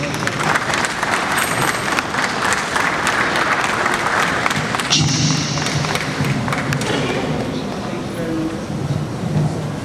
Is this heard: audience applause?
yes